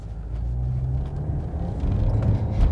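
A Ram Rampage R/T pickup with a 2.0 turbo gasoline engine pulls in second gear, giving a deep interior rumble that builds steadily and grows louder toward the end.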